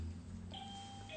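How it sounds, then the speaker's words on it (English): A faint two-tone doorbell chime rings softly in the background of a quiet room with a low hum. "Sorry, that's my doorbell."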